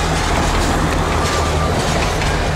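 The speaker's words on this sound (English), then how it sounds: "That's a better train, that's quieter." A train in Sri Lanka rolls past close by, a loud, steady rumble of wheels and carriages on the rails with faint rhythmic clatter, filling the whole stretch without a break.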